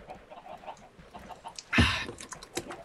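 A Minecraft chicken on an in-game chicken farm gives one short cluck-like burst midway, standing out from a faint, busy game background.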